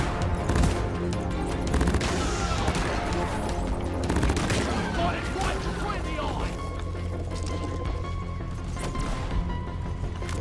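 Rapid gunfire in the sci-fi mining shooter Deep Rock Galactic, a dense, loud stream of shots mixed with game effects while players talk over it.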